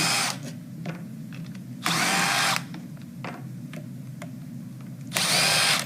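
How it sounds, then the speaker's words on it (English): Power drill backing out two 1/4-inch screws from a furnace ECM motor, two loud whirring bursts of about a second each separated by quieter handling clicks and rattles. "I'm going to use my drill and take out the 2 1/4-inch screws"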